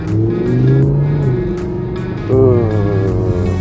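A newer Audi R8 V10 sports car engine rumbling near on a track, smooth and steady, with a rising rev swell partway through and faint background voices.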